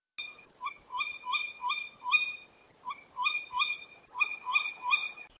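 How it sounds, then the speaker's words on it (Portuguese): A tawny owl (Strix aluco) calls at night in a rapid series of sharp, repeated hooting notes, clear and fairly close, in several bursts separated by short pauses. "o grito noturno da coruja do mato pode ser verdadeiramente assustador"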